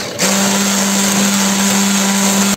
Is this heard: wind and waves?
no